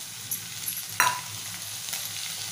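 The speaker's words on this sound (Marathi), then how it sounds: "आपण उभी चिरलेली वांगी घालूया।" Sliced brinjal goes into well-mixed spices in a pan for a spicy brinjal and potato curry, giving a short, fairly soft sizzle with a sharp burst as the pieces land, then a faint hiss.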